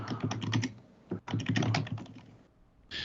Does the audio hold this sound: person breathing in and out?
no